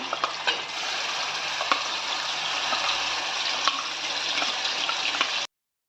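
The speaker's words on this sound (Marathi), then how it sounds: "तेल आपलं छान तापलेलं आहे मी त्यात एक चमचा जिरं मोरी टाकून घेत आहे आता मसाला टाकून घेते मी" Spices fry in hot oil for a dhaba-style sev bhaji: cumin seeds, then a masala paste. A steady, loud sizzle holds for about five seconds with small crackles, then cuts off abruptly. No one speaks.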